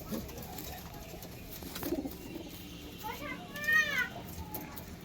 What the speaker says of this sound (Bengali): টিপলার পায়রা, আন্ধ্রা লাইনেরই তাই না?